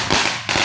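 Two sharp firecracker bangs, a short pause between them, burst loudly and close at New Year's Eve in Candelaria.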